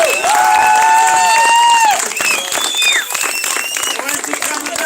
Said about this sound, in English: give him a good clap of appreciation for everything he's done